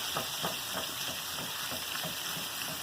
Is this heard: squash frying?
yes